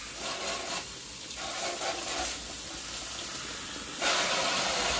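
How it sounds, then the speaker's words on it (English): Water sprays from a tap while brushes are cleaned, a continuous close hiss that rises briefly and gets louder near the end, with no talking. "Turn the spray on."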